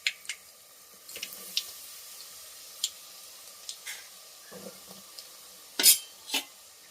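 Freshly ground pepper powder is stirred into a hot tempering for Andhra-style pepper rasam, faint sizzling under scattered sharp scrapes and clinks of a spoon against the pan.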